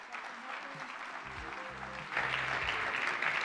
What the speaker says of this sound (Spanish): Un fuerte aplauso para Agustina, por favor.